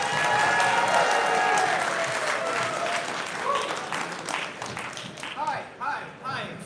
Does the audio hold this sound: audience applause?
yes